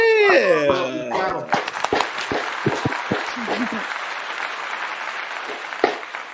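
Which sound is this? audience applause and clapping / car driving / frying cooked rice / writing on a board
audience applause and clapping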